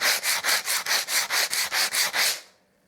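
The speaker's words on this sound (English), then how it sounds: "And give that bottom edge a good sand." Sandpaper rubbed by hand along the bottom edge of a painted wooden picture rail, about eleven even back-and-forth strokes in a steady rhythm, close and fairly loud, then stopping.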